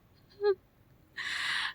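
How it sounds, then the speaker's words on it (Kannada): A single short bird call, followed moments later by a burst of bright, high chirping, quiet in the background. "ಹಕ್ಕಿಗಳು ಸೌಂಡ್ ಮಾತ್ರನೇ ಇದೆ"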